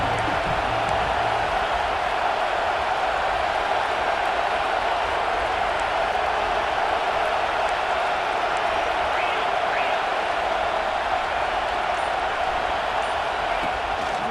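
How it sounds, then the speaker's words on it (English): A packed football stadium crowd roars in a dense, unbroken wash of noise that holds at a steady loud level throughout. "Listen to this crowd noise. This stadium is vibrating."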